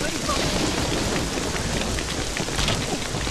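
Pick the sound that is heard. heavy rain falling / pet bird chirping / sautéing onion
heavy rain falling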